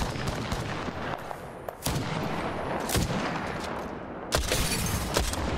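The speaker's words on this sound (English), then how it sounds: "I'm taking shots." Gunfire in the video game Apex Legends: a steady stream of rapid shots broken by a few sharper, louder bursts, close and continuous with no talk.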